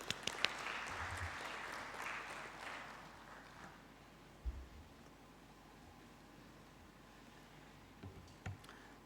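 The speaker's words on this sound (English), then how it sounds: "With a round of applause, please." Audience applause at an oil and gas congress in Tanzania, a brief burst of clapping at the start that fades into faint room noise with a few scattered claps.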